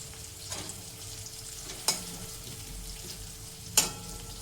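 Curry leaves frying in hot oil while cooking a black-eyed pea (chola) dish give a soft, steady sizzle, broken by two sharp clinks of a spoon against the pan.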